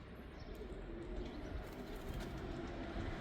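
Racing pigeons coo softly inside a loft, a faint, low murmur over quiet background hiss.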